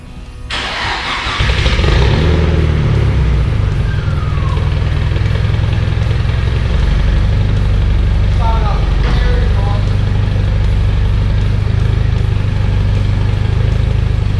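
A Nissan S14 drift car's engine cranks over and fires at about one second, then settles into a loud, steady idle that rumbles on alone for the rest of the stretch.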